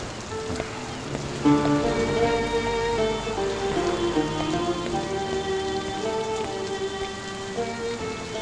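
Heavy rain pours down steadily, a dense continuous patter on surfaces that stays loud throughout, with faint music underneath and no speech.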